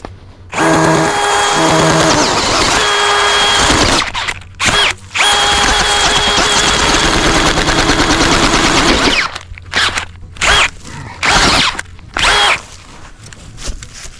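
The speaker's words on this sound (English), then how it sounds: "So let's go ahead and drill the hole." A loud power drill bores a dirthole into rocky ground for trapping, running in long sustained whirring spells that sputter and rattle against stones, then breaking into several short bursts with brief stops between them.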